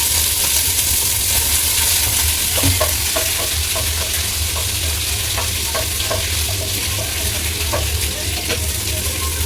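Dried red chillies and curry leaves sizzle loudly in hot oil, a dense, steady crackle lasting throughout with scattered sharper pops and light stirring scrapes, and no voices.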